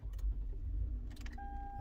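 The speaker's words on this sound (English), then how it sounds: "Alright, so car turns on" A 2010 Toyota Highlander starts up with a short low engine turnover and faint rattling or jangling near the start, then settles into a steady low hum with a thin electronic tone.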